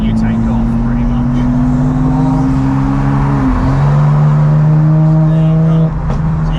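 An 880bhp BMW M4 G83 with a twin-turbo engine pulls hard on a street, its loud droning engine note climbing in pitch, briefly dropping at a shift and climbing again, close and steady under someone talking.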